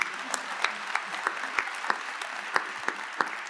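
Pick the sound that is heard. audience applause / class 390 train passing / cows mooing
audience applause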